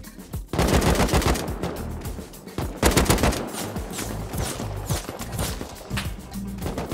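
Rapid automatic gunfire in the survival video game Rust, with dense bursts of shots and a few short pauses. The firing is loud and close and continues almost nonstop.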